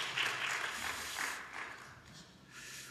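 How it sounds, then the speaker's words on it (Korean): A Sunday church congregation gives visiting members a short round of applause, soft and somewhat distant, with the clapping swelling in uneven bursts and then thinning out. "격려 박수 주시겠습니다"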